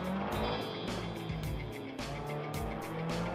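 A BMW M3 engine revs and shifts in the Assetto Corsa driving game on the LA Canyons free-roam track, with rising and falling engine tones, repeated gear changes and tire noise, loud and close.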